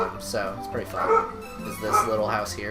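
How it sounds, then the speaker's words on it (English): Dogs bark outside, a run of sharp yips and barks heard under a person talking indoors. "I don't know what they're barking about."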